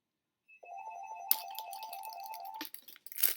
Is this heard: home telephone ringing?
yes